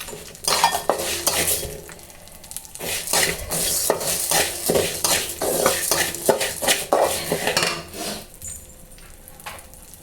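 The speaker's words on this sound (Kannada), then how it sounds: "ಈಗ ಅದಾದಮೇಲೆ ಉದ್ದಿನಬೇಳೆ ಹಾಕ್ತಾಯಿದ್ದೀನಿ." Urad dal sizzles and fries in oil in a pan over low heat, with dense crackling and repeated stirring scrapes and clinks of a utensil against the pan, close and fairly loud throughout.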